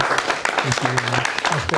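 A studio audience at a state representative candidate debate for the 26th Middlesex district applauds the three candidates, a brief dense patter of clapping with a voice talking over it.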